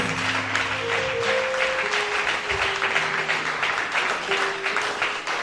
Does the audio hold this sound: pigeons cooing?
no